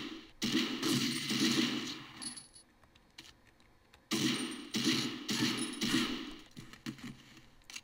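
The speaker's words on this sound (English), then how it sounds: "I see you there with your machine gun." Machine gun fire in the video game Medal of Honor Underground comes in two long rattling bursts of rapid shots, loud and close, with a quieter gap between them and no talking.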